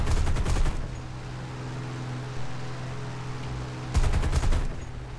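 A fighter plane fires 37mm cannon and .50-calibre guns in a video game air battle, with two rapid bursts of loud shots at the start and near the end over a steady engine drone.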